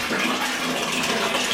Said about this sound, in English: So I'm going to add some cold water.